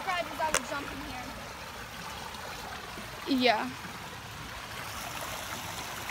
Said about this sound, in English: we're just at the creek